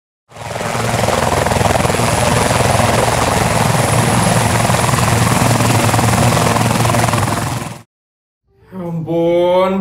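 A helicopter flies close and loud, its rotor and engine roar holding steady for several seconds before cutting off abruptly, followed by a brief spoken voice.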